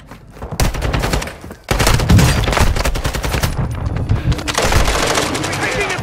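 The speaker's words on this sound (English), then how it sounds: "We're taking effective fire!" Loud, close automatic gunfire in Call of Duty Warzone 2.0 rattles in sustained bursts, briefly pausing before resuming with layered rapid shots amid battle noise and voices.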